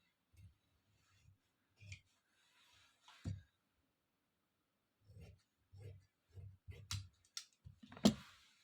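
Scissors cutting waistcoat fabric on a tailoring table, a series of short crisp snips in uneven bursts with pauses between, close and fairly quiet, the last cut louder.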